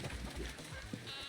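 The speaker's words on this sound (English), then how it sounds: "look at these goats here." Goats bleating outdoors, with a few wavering bleats rising and falling at moderate distance over a steady background hiss.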